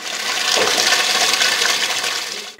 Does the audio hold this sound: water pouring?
yes